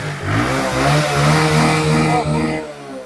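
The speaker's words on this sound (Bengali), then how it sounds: "আমি পায়ে শোনাচ্ছি সাউন্ড মানে ইঞ্জিনের সাউন্ড" A used motorcycle in a bike showroom near Kolkata is started in neutral and revved, giving a loud, close, steady engine roar with rising and falling pitch before it cuts off abruptly at the end.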